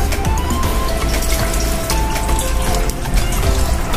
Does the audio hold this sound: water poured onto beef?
yes